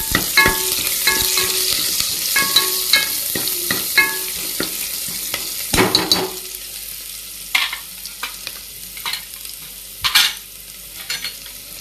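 Onion, cumin and mustard seeds frying in oil in a pot, a crackling sizzle broken by repeated sharp scrapes and clinks of a stirring spoon, close and fairly loud, with no voices.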